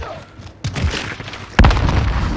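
Hip-fired gunshots from a weapon in Call of Duty: Modern Warfare ring out in a few loud, close bursts with booming low ends and sharp onsets, separated by brief quieter gaps.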